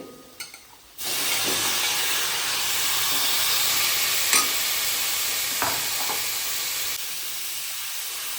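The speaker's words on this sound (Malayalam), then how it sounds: "ഇതിനകത്തേക്ക് നമ്മൾ ക്ലീൻ ചെയ്ത് വെച്ച 1/2 കിലോ ചിക്കനാണ് ഇടാൻ പോകുന്നത്" Half a kilo of cleaned chicken drops into a pan of cooked onions for a Kerala-style chicken stew, setting off a sudden loud, steady sizzle and hiss with a few stirring knocks, close and without talking.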